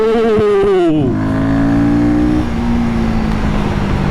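KTM Duke 350 motorcycle in sport mode, revving hard through first and into second gear; a loud, close engine note climbs, drops at the shift, then pulls again steadily.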